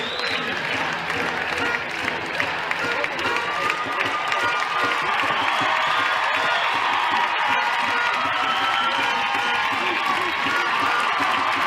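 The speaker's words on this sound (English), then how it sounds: "Huge applause from the Stars fans in here." A large indoor ice hockey crowd applauds and cheers steadily, with whoops and shouts rising over a dense wash of clapping.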